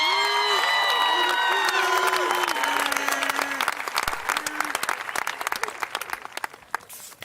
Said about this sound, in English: please give it up, a big round of applause for Mr. Cream Minds